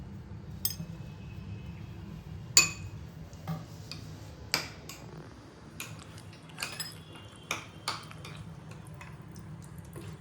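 Maggi tadka is stirred in a pan. A low background hum is broken by sharp metallic clinks and taps of a spoon against the pan, irregular and moderately close, with no talk.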